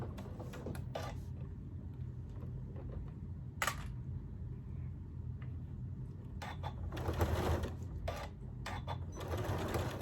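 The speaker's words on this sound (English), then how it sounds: "I'm gonna hold that part down and just start sewing." A sewing machine stitches fabric for a zipper-lined cross-body bag, heard as a quiet steady mechanical whir with rapid needle clatter that thickens into a busier run of stitching near the end, plus a few sharp clicks.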